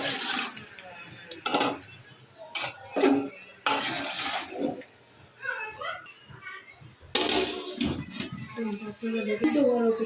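A spoon scrapes and clanks against a pot of ripe tomatoes being cooked into sauce in repeated stirring strokes, close and fairly loud, with a voice talking in between.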